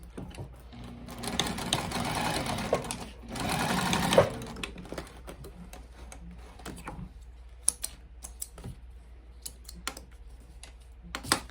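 A sewing machine stitches straight across the bottom of a bifold wallet card slot, a steady close whir for the first few seconds, then stopping into scattered clicks and small handling taps.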